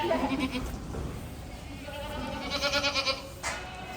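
Goats bleat repeatedly in a milking parlour on a large UK farm, several overlapping calls at moderate distance over steady machinery and barn hum, with no talk.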